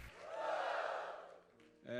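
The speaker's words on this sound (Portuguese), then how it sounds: "Vamos dar ao Pai uma salva de palmas e um grande grito de vitória" A church congregation lets out a big shout of victory, a broad swell of many voices that rises, holds and then fades. A brief tonal sound follows at the end, and the whole is fairly faint and distant.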